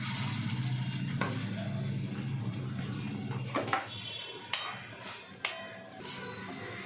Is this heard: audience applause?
no